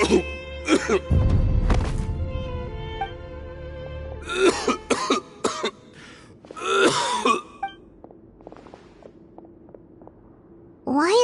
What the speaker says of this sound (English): is he coughing so much?